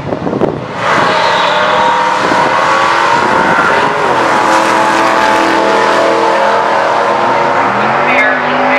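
Drag racing cars at South Mountain Raceway roar hard off the line, a loud sustained engine howl that climbs in pitch through the gears, with people talking faintly underneath.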